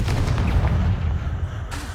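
Confringo blasting spell exploding in the Hogwarts Legacy video game, a loud, close booming blast with a rumbling low tail that fades over about two seconds, with no voices.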